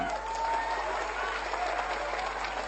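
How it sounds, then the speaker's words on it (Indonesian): Audience applause at a pesantren religious gathering, steady dense clapping filling the hall throughout, fairly distant, with a faint low hum underneath. "Tepuk tangan"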